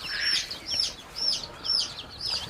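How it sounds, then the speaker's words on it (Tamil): Native country chicken chicks on a poultry farm peep in a quick series of about five bright, high chirps, close by and fairly clear. "இது நாட்டுக்கோழி குஞ்சு தான்."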